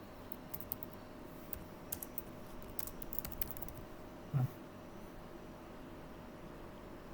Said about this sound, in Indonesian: saya ketik ulang ya.